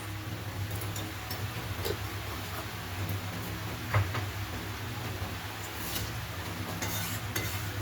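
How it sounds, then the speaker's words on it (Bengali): Mushrooms are stir-fried in a pan over high flame with garam masala, producing a continuous even sizzle and hiss marked by scattered light taps of a spatula. "এটাকেও আমি একটু 5 মিনিট ধরে নেড়ে নেড়ে কষিয়ে নেব"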